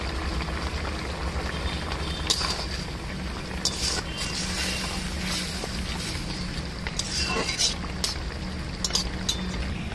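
Fried prawns go into a pineapple sauce simmering in a pan, giving a continuous close bubbling and hissing with a few brief splashy pops scattered throughout.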